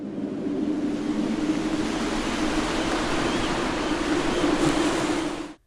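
Ocean waves surge in a steady, loud, continuous wash of broadband surf noise with a low rumbling undertone, no voices, lasting throughout before cutting off abruptly at the end.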